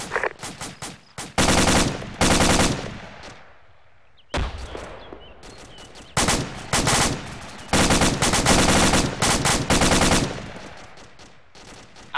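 Machine gun fire in the military video game Arma 3, several long loud automatic bursts separated by short pauses and quieter gaps, sharp and close with no talking.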